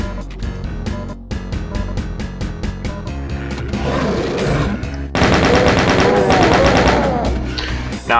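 Rapid gunfire from the shooter game Doom, Knee-Deep in the Dead episode: loud repeated shots in a steady rhythm, then a denser burst of blasts and explosive noise, with no voices.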